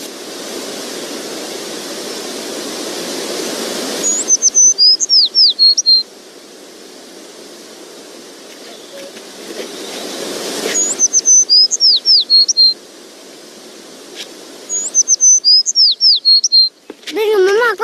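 Bright bird chirps and tweets in quick trilling bursts, three separate flurries, set against a steady wash of soft noise like running water, with a sharp clatter of sound near the end; no one speaks.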